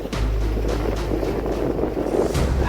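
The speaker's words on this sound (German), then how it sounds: "schöner Wind." Wind sweeping over a Swiss mountain ridge at 2165 metres on a bikepacking tour, a steady loud rumbling buffet on the microphone with gusts throughout and no talk.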